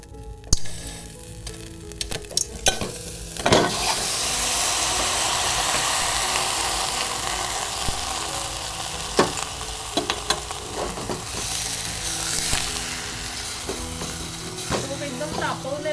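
Hardened buffalo-milk cream drops into a very hot pot for ghee and breaks into a loud, steady sizzle, with occasional stirring clinks over the hiss throughout.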